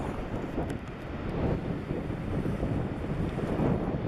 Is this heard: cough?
no